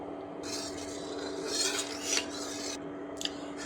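Close stirring in a pan of hot coconut oil with a pinch of turmeric, brief scraping and metallic clinks of a utensil over a faint background hiss, a few short bursts across several seconds.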